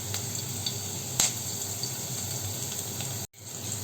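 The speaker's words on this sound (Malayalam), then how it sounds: "നെയ്യൊന്ന് ചൂടായി വരുമ്പോൾ അതിലേക്ക് അരിഞ്ഞു വെച്ചിരിക്കുന്ന ഒരു ചെറിയ കഷ്ണം ഇഞ്ചിയും അതോടൊപ്പം തന്നെ ഒരു പച്ചമുളകും ചേർത്ത് കൊടുക്കുന്നുണ്ട്" Chopped ginger and green chilli fry in hot ghee with a steady, fine sizzle at low to moderate level, briefly broken by a short clatter and a sudden gap.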